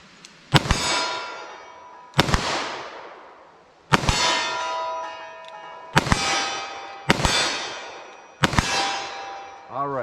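Six 10 mm revolver shots ring out at a steady pace outdoors, each a sharp crack followed by a bright metallic clang from a steel target that hangs and decays before the next.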